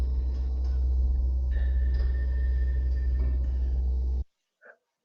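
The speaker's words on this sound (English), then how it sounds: "That's a particle reverb." A particle reverb effect built by feeding sound back through analog machines and delay lines, a dense low droning wash with a steady hum and a thin sustained tone, cutting off abruptly into silence with one faint trailing blip.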